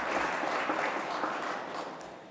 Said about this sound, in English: so we want to applaud you for that.